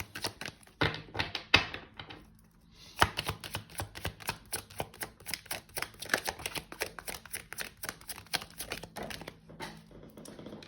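Tarot cards shuffled by hand in a quiet room, a long run of rapid soft riffling taps and card flutters in uneven bursts, close and fairly faint.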